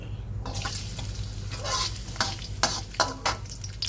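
Garlic dropped into oil heated over low flame in a pan, sizzling steadily with scattered bursts and stirring scrapes, close and moderately loud with no talking.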